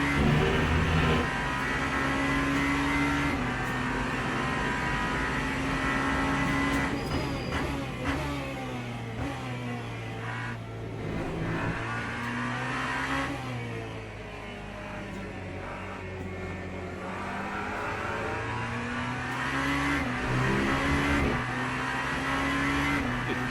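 Race car engine in the Le Mans Ultimate racing game on a timed lap, a loud continuous drone rising and falling through gear shifts and revs, steady throughout with no talking.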